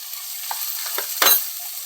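Raw potato pieces frying in a pan, a soft background sizzle broken by a few brief stirring scrapes, the last one louder and longer.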